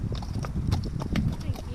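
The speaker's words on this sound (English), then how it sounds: "That's a horse coming down this tiny little road." Horse hooves clip-clop along a tiny, narrow road in a quick, steady rhythm of sharp knocks, heard close and clear while people talk over them.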